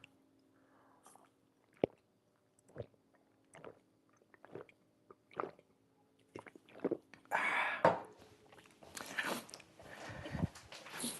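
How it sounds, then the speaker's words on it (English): ASMR-style drinking: quiet, close-up sips, gulps and mouth clicks come in separate bursts, then grow into denser, louder swallowing and slurping noises near the end, with no talking. "So now a little bit of ASMR drinking. So excuse the sound."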